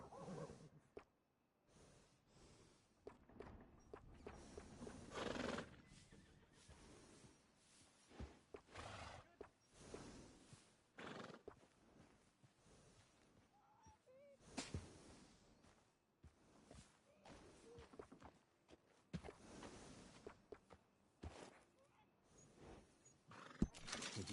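A horse in the video game Red Dead Redemption 2 neighing and snorting amid scattered hoof clops and breathing, intermittent sounds at moderate to faint level across a long stretch with quiet gaps.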